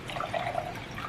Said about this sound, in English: So, I'm going to pour a little bit of this pure water.